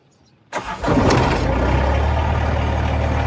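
An old diesel zero-turn lawnmower cranks briefly and catches, then settles into a loud, steady, rumbling idle close by.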